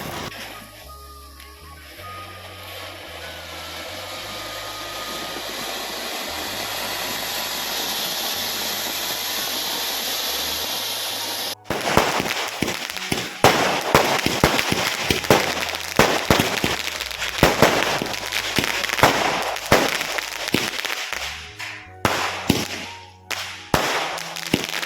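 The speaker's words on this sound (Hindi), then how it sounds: "पटाखे तो फोड़ना ही पड़ेगा। तो हम जला ले चकरी फुलझड़ी सब कुछ" Diwali-style firecrackers, spinners and sparklers: first a long, rising hiss of burning fireworks, then a dense run of sharp, loud cracks and pops in irregular bursts, close by and outdoors.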